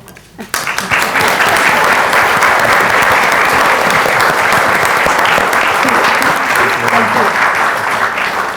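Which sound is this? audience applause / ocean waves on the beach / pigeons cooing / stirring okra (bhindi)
audience applause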